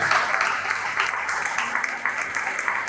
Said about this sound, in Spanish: ¿Cuánto le aplauso al Espíritu Santo?